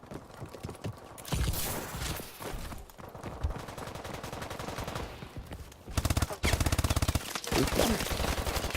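Rapid gunfire rings out in a video game match: bursts of sharp, clattering shots come in uneven clusters, loud and close, over busy game noise with some background voices.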